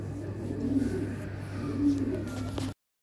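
Lahore Shirazi pigeons, a show pair offered for sale, cooing in low soft rolling phrases over a steady background hum, two swells of cooing in about three seconds.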